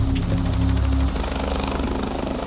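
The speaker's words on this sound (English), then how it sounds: "There goes the chopper." A rescue helicopter passes overhead at a coastal cliffside emergency, its rotor chop loud and steady, strongest early then easing slightly, with no talk over it.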